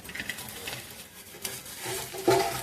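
Millet batter pancake (bhagar dhirde) sizzling in a pan as it is flipped, with a soft scrape and clatter near the end over steady frying hiss.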